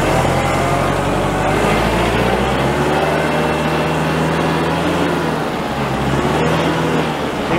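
Kubota L4060 open-station tractor engine running near idle, a loud, steady diesel drone with a slight rise and fall in pitch as the revs ease back down.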